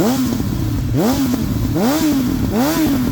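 A Suzuki Bandit GSF1200 motorcycle with a carbureted four-cylinder engine and a Beowulf exhaust with the silencer removed revs loud and close. Three rising and falling blips of the throttle sound over a constant rumbling idle.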